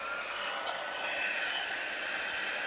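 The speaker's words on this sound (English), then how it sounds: "now I'm going to bring in my heat tool" An embossing heat tool blows hot air over powder on a stamped Christmas tag, a steady close whooshing hiss with one tiny click near the start and no voices.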